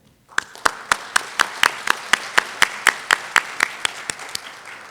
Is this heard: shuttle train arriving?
no